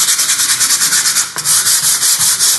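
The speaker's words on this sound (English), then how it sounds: "So, I'm going to sand it." Hand sanding of a wooden door with sandpaper, a steady rhythmic rasp of strokes in the direction of the grain, close and fairly loud, with a brief pause partway through and no talking.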